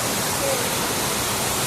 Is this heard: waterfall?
yes